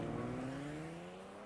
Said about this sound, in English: The new 375 horsepower Hyundai Genesis can go from 0 to 60 faster than a Porsche Boxster